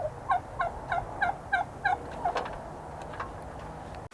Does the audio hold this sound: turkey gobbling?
yes